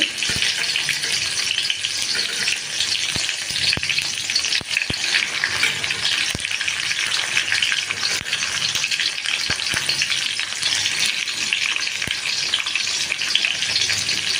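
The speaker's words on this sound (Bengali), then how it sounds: "আর এটা ভাজা হয়ে গেছে, টমেটোগুলো দিয়ে দিলাম, দানাগুলো বাদ দিয়ে।" Tomatoes with the seeds removed frying in a pan, a steady close sizzle with occasional clicks of a utensil stirring, no voices.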